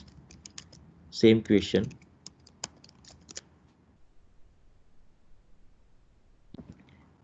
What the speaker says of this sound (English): And just I'm typing this